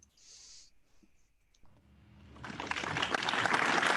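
Audience at a security conference talk breaking into applause that builds from a few scattered claps into a fuller, sustained round of clapping after some quiet clicks.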